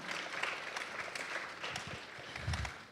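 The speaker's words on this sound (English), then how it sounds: "So let's give an applause to that." Moderate applause from an audience at a political panel discussion, a steady patter of clapping with a few low thumps near the end.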